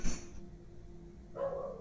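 A dog barks indoors, with a short sharp bark at the start and another brief yelp or whimper near the end, close by and moderately loud against a quiet room.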